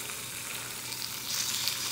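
Salmon sears in a hot pan with a loud, close, continuous sizzle that grows a little stronger toward the end.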